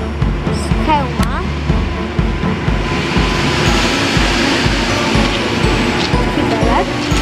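A Polregio passenger train rumbles out of Lublin Główny station in the evening, a steady low rolling drone with squealing wheels and someone talking over it nearby.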